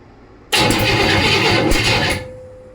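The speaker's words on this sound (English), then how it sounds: "the engine made its first happy explosions at the cost of my leg hairs, since I was standing next to the open headers" A 1935 Chevy Master Deluxe engine running through open headers fires up for the first time after restoration work, bursting abruptly into a loud, rough, crackling roar that holds for under two seconds before cutting out.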